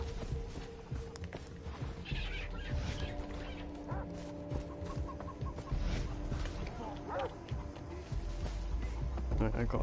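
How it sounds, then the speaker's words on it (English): Chicken clucking in the video game Far Cry 3, intermittent calls amid game ambience and footsteps, while someone talks throughout. "There's a chicken!"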